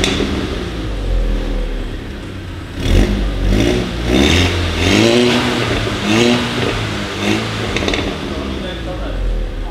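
A VW Golf VI GTI engine fitted with a new downpipe revs up in a few rising and falling surges at close range, with people talking over it.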